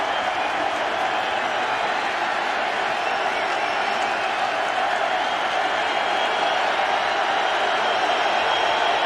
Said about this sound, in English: The crowd noise picks up.